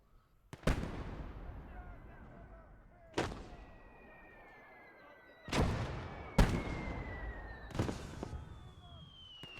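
White phosphorus artillery rounds fire in a WWII real-time strategy game, landing as several loud, well-spaced booming blasts. Each boom has a long rumbling tail and some trail off in a high whistle.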